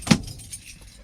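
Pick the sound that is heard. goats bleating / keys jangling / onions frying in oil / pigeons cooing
keys jangling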